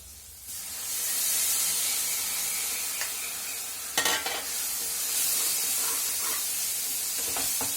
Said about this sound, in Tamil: இப்போ நம்ம ஊற்றி கிளறி விடுவோம்.